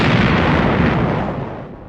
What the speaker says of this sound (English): It is an explosion in the water.